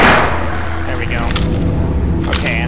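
Gunfire in the video game Half-Life, a few sharp cracks standing out over a steady game soundscape, with the player talking over it.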